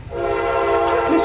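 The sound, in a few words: passing train with horn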